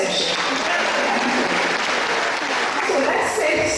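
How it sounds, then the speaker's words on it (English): Steady applause from a seminar audience at a health and fitness talk, dense and continuous throughout, with faint voices mixed into the clapping. "Clap for him in absentia."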